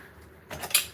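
Kitchen utensils such as spatulas and other large tools being put away, a short burst of clattering metal and plastic near the end, close and moderately loud after quiet.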